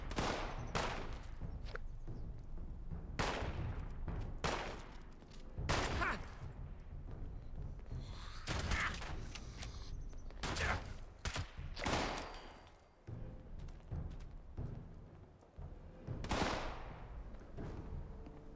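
Gunfire in Fallout 76, a string of separate sharp shots at irregular spacing, some louder and some softer and more distant, over a low background with no talk.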